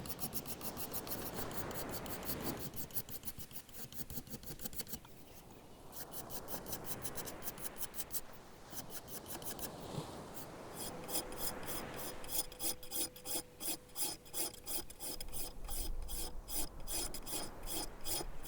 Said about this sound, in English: Just going after it with a nice straight sanding block and a scraper